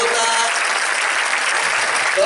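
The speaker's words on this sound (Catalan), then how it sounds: "A ells els haurem de tornar a aplaudir una altra vegada mentre acaben tots els altres grups." Audience applause at a traditional dance gathering in a Catalan village, loud, dense clapping that holds steady throughout the short stretch, with a hint of voices mixed in.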